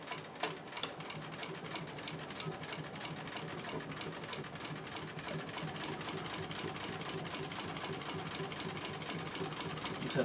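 A sewing machine stitches upholstery for a 1952 GMC diesel truck seat, running in a fast, steady mechanical patter that holds an even rhythm throughout with no pauses.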